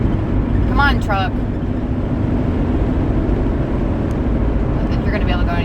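A truck engine drones steadily while the truck drives, a loud, continuous low rumble with road noise throughout. A voice speaks briefly over it near the start and again near the end.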